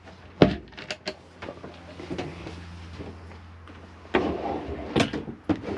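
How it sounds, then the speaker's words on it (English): A few sharp wooden knocks and thuds, then a cutlery drawer in a Swift Escape 622 motorhome slides out with a soft rumble, followed by more clunks nearby. "Slide out cutlery drawer"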